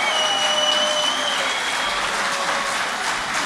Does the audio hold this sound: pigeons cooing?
no